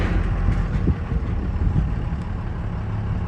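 A pickup truck in 2-wheel drive rolls onto an Iron Bull FLG22 gooseneck trailer, its engine giving a steady, fairly loud low rumble with slight surges and no talking.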